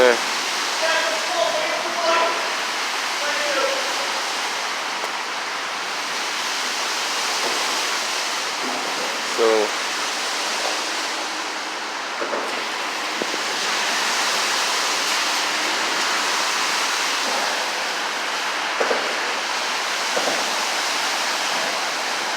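Water from a large water main break at Neponsit Circle gushes in a steady, loud, broadband rush that runs continuously throughout, with a few faint knocks and splashes scattered over it.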